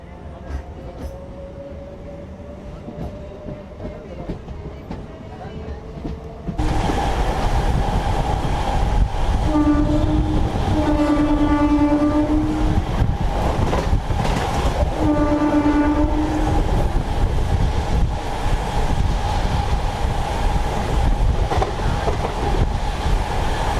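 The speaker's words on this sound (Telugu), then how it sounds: "మన ట్రైన్ తడ నుంచి అయితే బయలుదేరిపోయింది" A MEMU express train leaves Tada station. The roar of the moving train rises sharply, then its horn sounds in two long blasts over steady rail clatter, with a voice at times.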